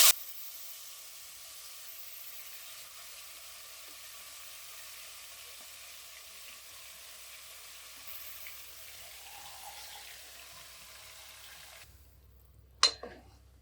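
Masala tipped into hot oil sizzles and fries steadily for a cauliflower kodo millet biryani, a continuous close hiss that cuts off near the end, followed by a brief sharp clink.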